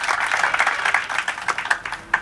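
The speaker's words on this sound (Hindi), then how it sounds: "आप सबसे निवेदन करता हूं जोरदार तालियों से सभी का स्वागत करें।" An audience claps warmly to welcome guests at a Hindi talk event, a dense, continuous patter of many hands with sharper individual claps standing out near the end.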